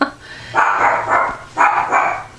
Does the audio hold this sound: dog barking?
yes